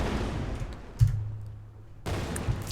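An area-of-effect explosion effect in an Unreal Engine 5 game goes off as a single sharp blast followed by a low rumbling tail, heard over a steady background hiss.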